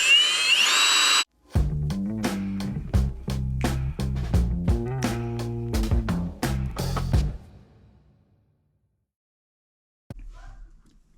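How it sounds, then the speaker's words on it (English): A drill spins emery cloth inside a 22 mm socket, in short repeated bursts of loud whirring separated by brief pauses, then stops and goes quiet near the end, with a short final burst. "I have some emery cloth inside of a drill, or inside of a 22 millimeter socket, and just kind of spinning it back and forth"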